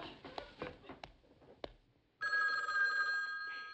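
At a nursery school, a telephone bell starts ringing loudly and continuously partway through, after a few soft scattered knocks and rustles.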